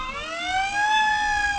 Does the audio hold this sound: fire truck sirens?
yes